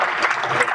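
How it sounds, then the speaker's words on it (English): Short burst of audience applause at a public meeting, close and fairly loud clapping with a little crowd chatter underneath. "Let's give her another round of applause"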